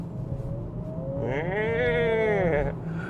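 A 2025 Acura ADX small SUV with a CVT revs under throttle, its engine note rising and holding in a droning, bleating whine for about a second and a half before easing off, close and moderately loud.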